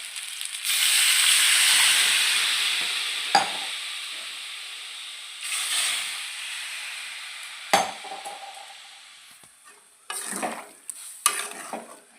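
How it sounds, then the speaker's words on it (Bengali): Water is poured over mango pieces frying in a pan for a sour-spicy pickle, setting off a loud burst of hissing sizzle that slowly fades, broken by a few sharp clinks of the spoon and stirring. "এবারে আমি জল দিয়ে দিচ্ছি।"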